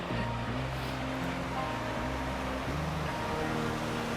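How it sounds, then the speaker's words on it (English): Ocean waves roll in on a shore in a constant, loud wash of surf, with a low steady rumble underneath and no voices. "look at these waves coming in right now"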